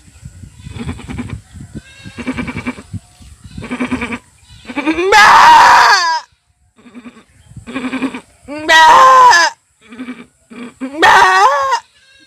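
A voice imitates a goat's bleating, several wavering, strained bleats rising to loud, quavering cries, interspersed with shorter grunting calls, close and clear.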